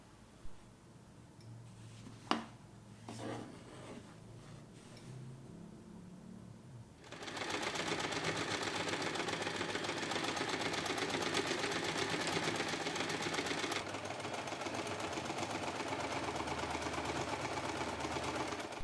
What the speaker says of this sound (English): We are going to sew all the corners one more time, this time on the outside, to neatly finish all those raw edges